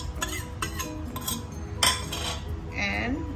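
A spoon scrapes and clinks against a bowl while grated papaya is mixed with a teaspoon of salt, giving several close, irregular knocks and scrapes with no talking.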